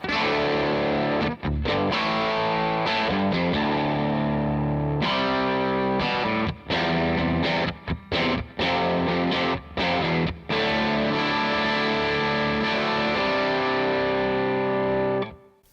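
Heavy distorted electric guitar riffs with a bright, biting tone, low chugging notes and brief pauses between phrases, loud and close with no other sounds.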